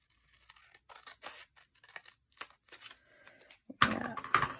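Scissors snipping through a recycled magazine page, a series of quiet, irregular crisp cuts and paper rustles, ending in a couple of louder, closer snips.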